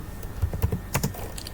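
A command being typed on a computer keyboard while flashing an ESP32 chip: a quick, uneven run of close keystroke clicks with a couple of louder taps, no voices.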